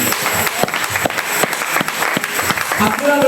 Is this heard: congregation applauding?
yes